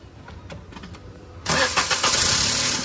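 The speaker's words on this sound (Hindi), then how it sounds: "अब ये देखना भाई इंजन की वाइब्रेशन" A Maruti WagonR with a seized engine, about four years old, cranks on its self-starter and fires up, then runs loud with a rough, heavily vibrating idle. Faint clicks come before the start.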